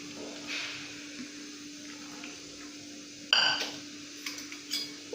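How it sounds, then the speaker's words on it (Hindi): A boiled herbal decoction of tulsi leaves and black pepper is strained for cough and cold, with faint metallic clinks and scrapes of a spoon and vessel over a quiet background. "इसको अच्छे से हम छान लेंगे, इस तरह छानना है इसको।"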